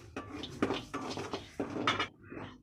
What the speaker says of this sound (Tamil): பார்த்தீங்களா, அரிசி நல்லா படப்படன்னு பொரிஞ்சிச்சிங்களா.